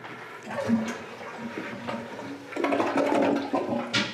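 A house toilet flushing, water gurgling and rushing into the bowl in uneven surges that build louder toward the end, close by, with no talking.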